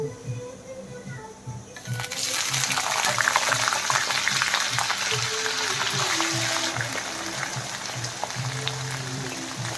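Tempering spices for a tomato and potato curry sizzle and crackle steadily in hot oil, close and continuous, after a quieter opening with a voice briefly heard.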